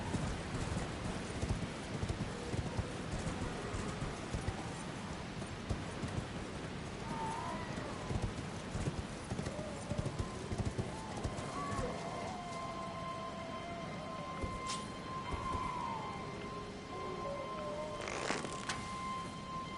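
Rapid, steady hoofbeats of a horse galloping in the video game Elden Ring run throughout, mid-loud and continuous, with occasional game effects layered over the drumming rhythm.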